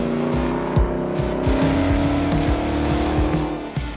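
A RAM 1500 TRX pickup with its supercharged V8 Hellcat engine roars loudly and steadily, its pitch climbing through revs over sharp intermittent tire squeals and thumps, with no voices.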